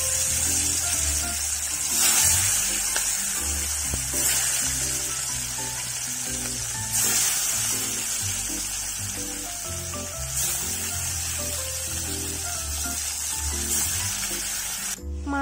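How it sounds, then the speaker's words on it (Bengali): Rui fish rubbed with salt and turmeric fries in hot oil in a kadai, giving a steady, even sizzle and hiss that runs without a break for the whole stretch. "মাছগুলো ভেজে নিয়েছি।"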